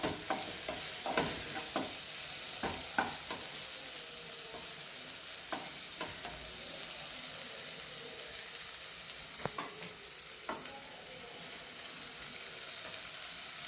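Sliced onions fry quietly in a pan with salt for an okra side dish, a soft continuous sizzle broken by occasional scraping stirs of a spoon, with no talking.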